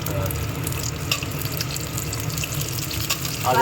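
Small onions, garlic, coriander, cumin and pepper fry in a pan for a horse gram curry, giving a steady close sizzle with light stirring noise throughout.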